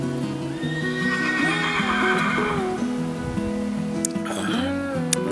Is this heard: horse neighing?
yes